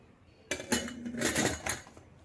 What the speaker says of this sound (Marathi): ते भांडं मी यामध्ये ठेवून घेतले। वरतून फिट बसेल असं याला झाकण टाकायचंय